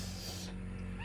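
A hungry cat gives a single drawn-out meow, loud and close, lasting about half a second before fading into low background noise.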